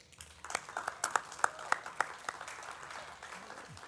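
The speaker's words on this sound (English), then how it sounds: "give yourselves another round of applause for that" Scattered applause from convention attendees, a handful of distinct, fairly sharp claps in an uneven rhythm over a quiet room, fading out after a few seconds.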